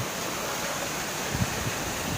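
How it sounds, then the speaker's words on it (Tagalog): Heavy rain pours steadily during a flood in Manila, a dense, continuous broadband hiss that fills the whole clip, with a few low thumps and no voices. "At tuloy-tuloy pa rin ang buhos ng ulan."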